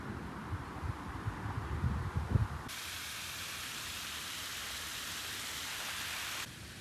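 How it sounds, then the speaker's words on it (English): Steady rain in Düsseldorf hisses throughout, with a few louder patters early on before settling into an even, continuous downpour that cuts off at the end. "You could definitely hear the rain."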